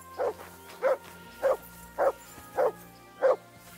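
The dog Mutz in the video game Kingdom Come: Deliverance II gives six evenly spaced barks, each short and moderately loud, repeating at a steady rhythm with no talk over them.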